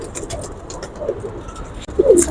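Pigeons coo softly on a rooftop, a few low burbling calls spread across the moment, with a louder coo near the end.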